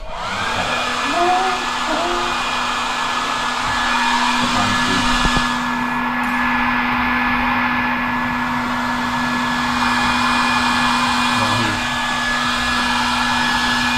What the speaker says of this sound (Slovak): A takto treba zobrať fén.